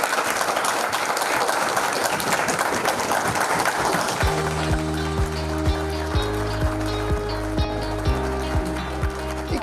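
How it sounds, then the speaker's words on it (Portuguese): Audience applause at a monthly meeting, a dense steady clatter of clapping that later sits under music with a low repeating beat, loud and sustained throughout. "E se quiserem aplaudir, podem aplaudir."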